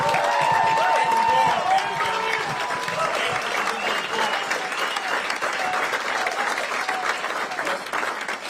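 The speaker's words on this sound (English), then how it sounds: "Let's give her another round of applause" A crowd applauds at an Illinois Republican gubernatorial concession event, sustained clapping with some cheering and murmured voices mixed in, holding steady for over eight seconds.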